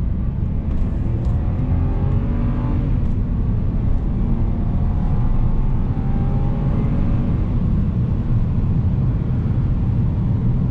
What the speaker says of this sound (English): Gosh, that engine sounds so good.